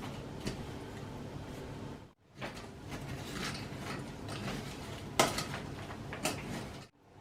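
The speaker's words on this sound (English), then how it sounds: "Into a saucepan and mix on a low heat" A spoon mixing ingredients in a saucepan on low heat, continuous scraping and rattling against the pan with occasional sharper knocks and a couple of brief pauses, close and clear with no talk.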